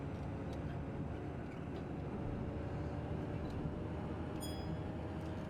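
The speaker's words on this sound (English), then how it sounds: "There's another green train." A train rumbles along a railway line in the Train Drive ATS 2 simulator, a low, steady drone of wheels and motor at moderate volume, with a brief faint high squeal near the end.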